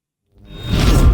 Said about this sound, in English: I also used whooshes here a lot for the charging of the lightning bolt